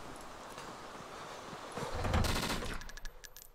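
Gunfire in the survival video game DayZ: a burst of several shots rises over the background around the middle, followed by a few sharper, separate reports toward the end.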